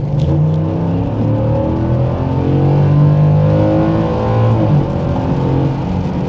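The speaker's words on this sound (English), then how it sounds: "We got the truck in sport mode. Let's give it a little more of a rip." A Ford F-150 Lobo pickup engine in sport mode revving hard and accelerating, a loud continuous roar with rising and falling pitch, close by.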